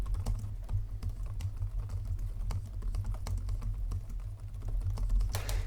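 Fingers type on a Huawei Matebook 14 laptop keyboard with an AMD Ryzen 5 4600H, the keys producing soft, muted, near-silent taps in a continuous uneven patter over a low background hum, with no voices.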